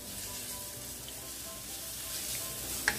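Thinly sliced pork belly stir-frying over high heat for meat croquettes, a soft, even sizzle holding steady throughout with one small clink near the end, no voices.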